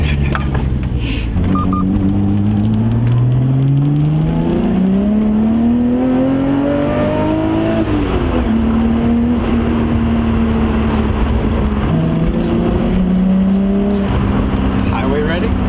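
A Nissan GT-R fitted with new injectors revs and pulls through the gears, the engine note rising steadily and then dropping at each shift, loud and close from inside the car with some talk under it.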